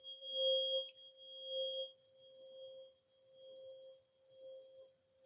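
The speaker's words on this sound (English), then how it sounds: "supposedly a miracle tone" A steady pure sine tone, billed as a so-called miracle tone, hums at a constant pitch with a faint higher partial, swelling and fading gently in loudness over a few seconds, quiet and with no speech.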